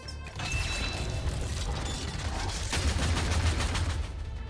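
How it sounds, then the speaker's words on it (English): Explosive attack sound effect from the Neural Cloud video game, a rapid rattling burst of blasts and mechanical clatter that runs loud and continuous for a few seconds with no talk. "they keep using like the Kroku ultimate explosion attack sound effect for this"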